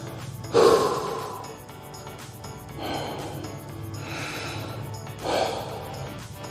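Heavy breathing during seated burpee exercise in a truck, with several loud, forceful exhales and snorting breaths, one sharp burst first and then slower rhythmic breaths, close to the microphone.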